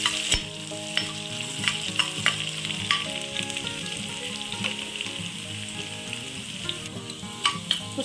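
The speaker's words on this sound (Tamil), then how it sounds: "பூண்டு கொஞ்சம் நல்லா பச்சை வாசனை போகிற வரைக்கும் கொஞ்சம் நேரம் வதக்கிட்டு" Garlic frying in oil in a pan for a Tamil dried-fish gravy, a constant close sizzle punctuated by repeated metallic stirring clicks and scrapes of the spoon.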